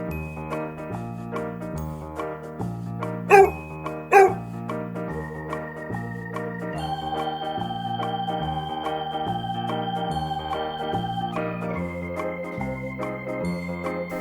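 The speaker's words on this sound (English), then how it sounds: "Dog." Two short, sharp dog barks ring out close together early on, alone over a steady musical accompaniment that continues beneath them.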